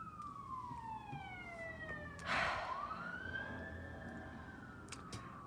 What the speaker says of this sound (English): I live next to a noisy road, so, if you hear sirens and cars vrooming by